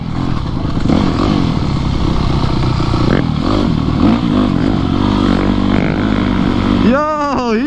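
A dirt bike's engine drones and revs steadily while its rear wheel spins and fails to lift in loose dirt, the motor loud and close throughout with a rising whine near the end.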